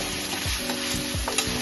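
Chicken fries in a pan with a dense, steady sizzle while a spatula stirs it, giving repeated low scraping strokes beneath the hiss.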